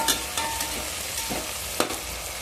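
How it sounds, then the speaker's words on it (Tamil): Tomatoes sizzle steadily in a hot pan for an eggplant curry, with a few sharp scrapes of a spoon stirring them through the even frying hiss. "தக்காளியை போட்டாச்சு. லைட்டாக அப்படியே ஒரு கிண்டிட்டு"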